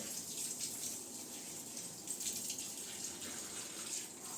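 Water pours steadily in a home kitchen, a continuous close splashing gush that runs without a break for several seconds and no voices over it.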